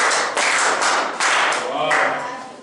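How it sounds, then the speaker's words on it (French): Students in a chemistry class clap for a classmate, a loud, close burst of applause that comes in a few uneven waves and then starts to fade. "Applaudissez très fort pour lui."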